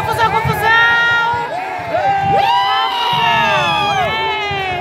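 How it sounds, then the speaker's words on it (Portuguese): An agitated football crowd in a stadium during a Campeonato Alagoano match between ASA and CSE, loud shouting, whistling and cheering voices rising and falling together close by. "E a galera tá agitada, porque atrapalha"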